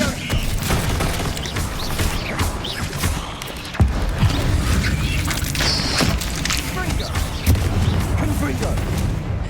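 Fire-blast spells cast in the Hogwarts Legacy video game burst in repeated loud booms and crackling impacts amid busy combat noise, with voices speaking over the fight.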